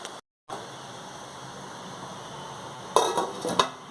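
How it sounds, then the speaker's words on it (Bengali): A lid going onto a kadai of frying water spinach: a low sizzle runs quietly, then a couple of sharp metallic clinks and rattles of the lid settling on the pan near the end. "আবার ঢাকা দিয়ে দেবো"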